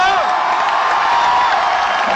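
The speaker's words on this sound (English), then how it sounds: "You can cheer for me as well" A large arena concert crowd at a cello rock show roars and cheers in one continuous, loud, dense wash of voices and whoops.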